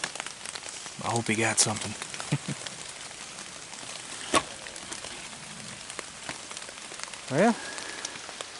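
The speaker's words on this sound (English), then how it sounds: "Been absolutely pouring down rain on us all morning." Heavy rain pours steadily on a wall tent at a deer hunting camp, a constant hiss under occasional brief voices and a few sharp taps.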